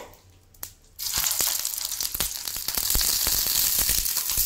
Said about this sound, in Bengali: এটা এখন ভাজতে হবে, টাইম নিয়ে ভাজতে হবে।